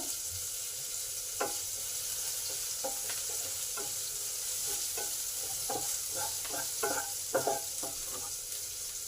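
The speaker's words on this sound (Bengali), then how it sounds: "পেঁয়াজটা এই দিকটা ভাজা হোক" Onions frying in a pan, continuous sizzling oil with frequent irregular scrapes and taps of a stirring spoon, busier toward the end, heard up close with no voices.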